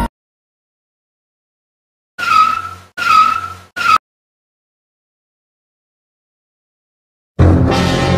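Cartoon car tires squeal in three short, loud skids during a chase, separated by brief silences, followed by a sudden burst of louder noise at the end.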